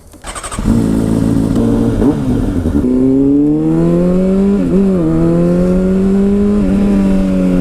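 A Honda CBR600RR sport motorcycle starts and pulls away, its engine note rising and climbing through several gear changes in loud, close, sweeping revs.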